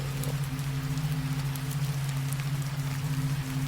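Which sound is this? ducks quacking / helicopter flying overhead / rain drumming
rain drumming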